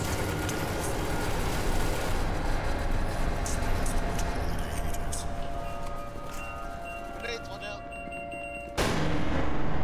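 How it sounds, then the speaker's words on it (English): Grenade blasts in SCP Secret Laboratory, a dense, loud barrage of rumbling booms and gunfire-like cracks filling the whole stretch, with voices talking underneath and a sharp cutoff near the end before another burst. "Grenades, watch out!"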